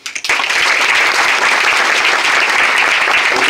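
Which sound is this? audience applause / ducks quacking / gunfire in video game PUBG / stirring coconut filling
audience applause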